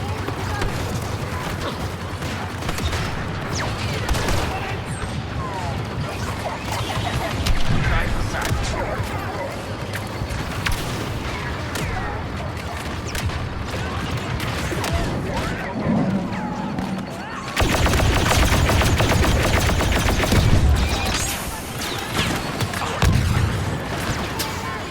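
Continuous battle din from Star Wars Battlefront II on Jakku: autogun bursts and grenade blasts crowding together, loud and dense, with a heavier booming stretch near the end and voices calling out over the fighting.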